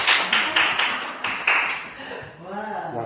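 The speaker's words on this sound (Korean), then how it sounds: "우리 하나님께 감사의 박수" A church congregation claps in thanks to God, with a few sharp, loud claps fading into scattered applause as a voice begins speaking near the end.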